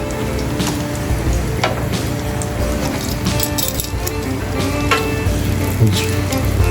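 Eggs and sausage frying on a 17-inch outdoor griddle outdoors, giving a steady loud sizzle with spatula clinks and scrapes scattered throughout.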